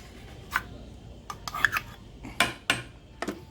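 A spoon scrapes and knocks against the metal inner pot of an Instant Pot while sour cream is stirred into beef stroganoff, giving scattered, faint clinks and rubbing strokes in an otherwise quiet kitchen.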